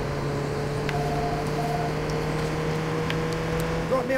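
A car engine in Watch Dogs 2 hums steadily and fairly loud throughout, a sustained low drone with faint tonal layers and no voice on top.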